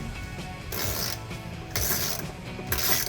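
A ratchet tightens the MBRP cat-back exhaust clamp on a 2015-2022 Dodge Challenger 3.6L, with three bursts of rapid metallic clicking heard up close, separated by short pauses.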